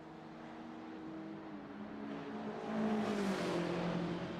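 GT3 race cars lap Road Atlanta in a sim racing game, engines droning steadily and then rising in pitch as they accelerate down the backstretch, with a continuous layered hum of several cars.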